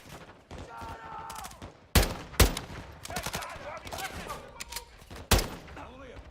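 Gunfire in Call of Duty: Modern Warfare II, several sharp, loud shots punctuating a busy battle mix with radio-style voices and scattered bursts.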